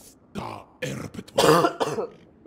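A man clears his throat and coughs in a few short, rough bursts at close range, with no words spoken.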